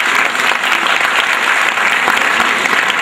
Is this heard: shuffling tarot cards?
no